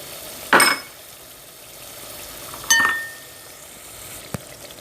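Tomatoes dropped into a pot of sizzling ginger garlic paste with chillies, two sharp bursts of frying hiss, each fading quickly, followed by a single small clink.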